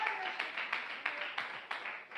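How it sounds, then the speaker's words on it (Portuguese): A church congregation claps in praise during a sermon, steady rhythmic clapping with regular accented beats, fairly faint and distant in a reverberant hall. "Palmas de vitória para Jesus de Nazaré."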